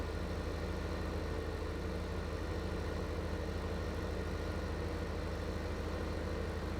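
A tractor engine in Farming Simulator 15 drones at a steady idle, a continuous low rumble that holds an even level throughout with no other sounds over it.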